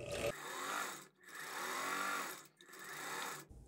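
A sewing machine stitching a straight seam with backstitching, three close, loud bursts of rapid mechanical whirring separated by brief pauses, with no talking.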